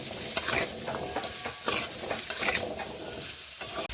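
Potatoes and carrots stir-fried together in a pan with turmeric and salt, a steady sizzle broken by repeated scraping strokes of the spatula, close and fairly loud with no talking.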